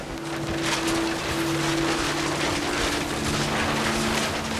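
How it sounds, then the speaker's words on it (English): Steady rain in the video game What Remains of Edith Finch, a continuous wash of falling water that fills the whole clip at an even level, with a faint low hum running underneath. "it's raining"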